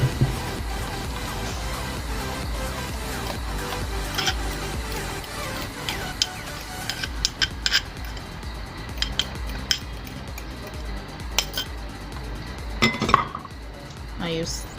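Butter, sugar and a little water, already melted, are stirred together with mashed banana for a banana loaf cake batter, with a utensil scraping and clinking against the bowl in scattered, irregular taps over a busy background.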